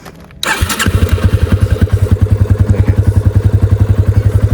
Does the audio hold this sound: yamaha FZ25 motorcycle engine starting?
yes